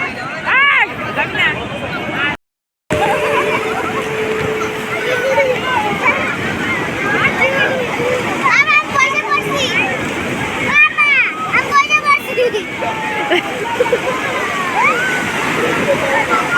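Water splashing and sloshing as people bathe at Puri, with a bustling crowd and children's voices chattering throughout and a brief dropout near the start.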